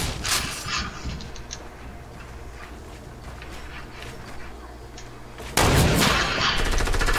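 Gunfire in the video game Fortnite: a steady rattle of rapid shots at moderate distance, swelling into a louder, closer burst near the end.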